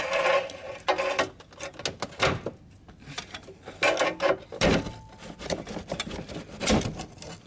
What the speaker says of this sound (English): I just pried this hose back.